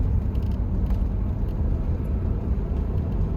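A 1994 Oldsmobile Silhouette minivan on the move, its steady low road and engine rumble filling the cabin evenly, with no one talking.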